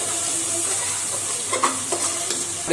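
A paste of chili, garlic and ginger sizzles softly in a pan, added to onion paste, then a spoon stirs it with a few short scraping taps toward the end.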